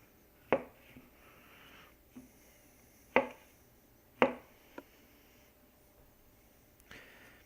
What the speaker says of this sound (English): I guess you get the choppy noises.